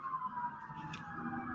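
An emergency siren from a police car or ambulance passing outside a home wails faintly and steadily in the distance.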